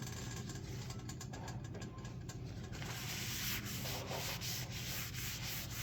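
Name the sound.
wiping oil off cast iron pan with napkin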